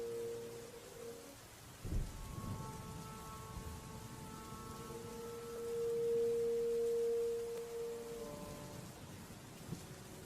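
Thunderstorm with steady rain, a low thunder rumble swelling in the middle, with sustained tonal music notes held over the rain throughout.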